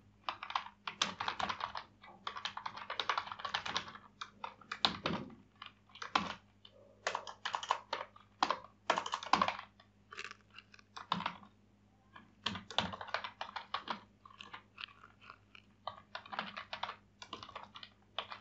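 Close, steady typing on a computer keyboard while writing JavaScript code, with quick irregular runs of key clicks separated by short pauses over a low background hum.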